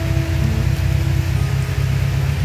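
Rain falls outdoors at a used car lot, making a dense, steady hiss that runs throughout over a low, continuous rumble.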